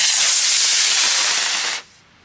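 Model rocket launching from a pad outdoors: a loud, rushing, roaring hiss lasting under two seconds that cuts off abruptly, leaving faint background.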